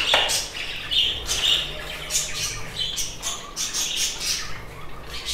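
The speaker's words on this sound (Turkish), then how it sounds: "Mamayı verdiğimiz anda kuşlar hemen yemeye başlıyor." Pet birds squawk and chirp repeatedly as they eat freshly served bird feed, with shrill calls sounding close and loud over a busy, crowded background chatter of other birds.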